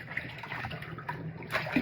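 Water running from a tap or hose while a giant water balloon is being filled, a soft, steady rushing and splashing at fairly low level that swells slightly near the end.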